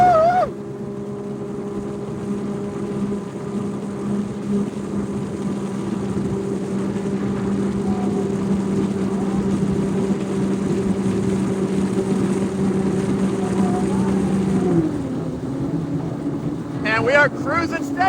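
A Sea-Doo GTX Limited 300 personal watercraft running in sport mode gives a steady, loud engine drone with wind buffeting. The pitch shifts near the end.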